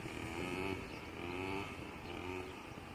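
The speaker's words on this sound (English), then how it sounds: "Starting to find them higher revs now." Quad bike engine revving hard at high revs, a steady buzzing drone close by with slight rises and falls throughout, no talking.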